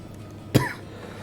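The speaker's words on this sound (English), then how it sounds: "I apologize ahead of time for any coughing." A single short cough from a person with a slight head cold, close and fairly loud, against a quiet background.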